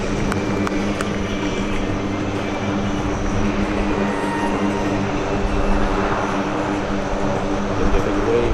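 A Lockheed C-130J Super Hercules at an airshow produces a continuous heavy propeller-engine drone, loud and sustained throughout.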